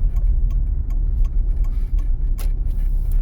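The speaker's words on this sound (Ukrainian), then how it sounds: "Вмикаємо правий покажчик повороту" A car's right turn signal ticks in a steady, evenly spaced rhythm over a continuous low engine and road rumble inside the cabin.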